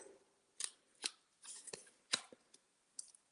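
Scissors snip corners off a sheet of paper in a handful of sharp, close cuts spaced irregularly, with short quiet gaps between them.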